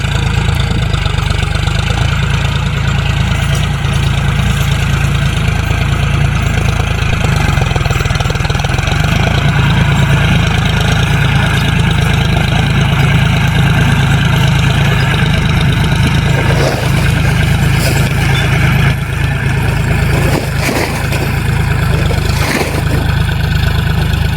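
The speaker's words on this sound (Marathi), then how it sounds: "आता ट्रॅक्टर पण झाला बघा चालू" A tractor engine runs for ploughing, a loud, steady low drone that holds unbroken from start to finish.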